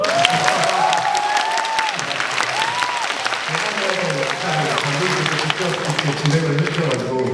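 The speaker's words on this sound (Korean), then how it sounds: "네, 박수 한번!" Audience at a Busan film festival screening Q&A for the film Hansan breaking into sustained applause, dense clapping throughout with some cheering and voices mixed in.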